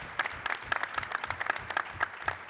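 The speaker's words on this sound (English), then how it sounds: "I just want to say a round of applause for Tracy" A room of people applauds a panel member at a community event, a steady wash of many hands clapping at moderate volume for a couple of seconds with no talk over it.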